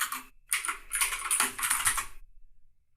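Computer keyboard typing during a Photoshop 2023 text tool session, a dense run of quick, close clicky keystrokes lasting about two seconds with a brief pause near the start, then silence.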